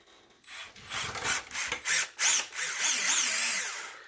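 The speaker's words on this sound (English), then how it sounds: "I'm going to take my drill while it's nice and soft so the resin isn't going to crack" A power drill boring a hole through the center of a soft, freshly cast resin mould, with uneven bursts of grinding and whining as the bit bites and the tool rubs, close and loud with no talking.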